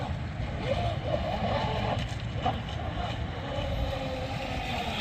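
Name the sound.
Miss Geico model race boat motor running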